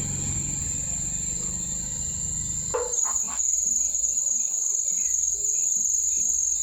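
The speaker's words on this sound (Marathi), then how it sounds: "किडे कसा आवाज करतो" A steady, high-pitched chorus of crickets chirps throughout, with a low voice murmuring underneath for the first few seconds before it falls away.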